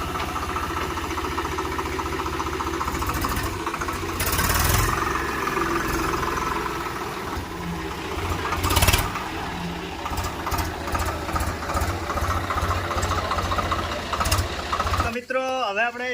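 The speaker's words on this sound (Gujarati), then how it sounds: "ટ્રેક્ટર પાછું લઈ રહ્યા છે" A Swaraj tractor engine runs steadily throughout a tractor-pulling challenge, a low droning rumble with a few louder surges, while people talk over it.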